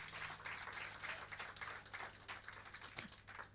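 A church congregation applauds during a sermon, a faint, spread-out clatter of clapping hands that rises and falls continuously, with no voice on top.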